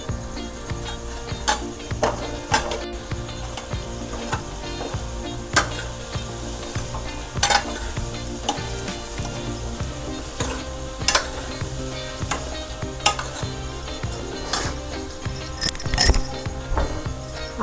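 Stuffed eggplants (bharli vangi) fry in a pan with a soft, steady sizzle. A spoon scrapes and taps against the pan in repeated close strokes, with no talking.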